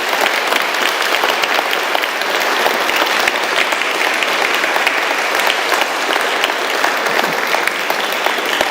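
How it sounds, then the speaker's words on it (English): Steady, loud applause from a conference audience fills the room, continuous clapping from a large crowd with no break and no voices standing out. "Would you please give them a huge round of applause?"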